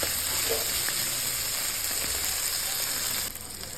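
Salted sardines frying in oil, a steady dense sizzle throughout that drops slightly in level near the end, close and unbroken with no talk.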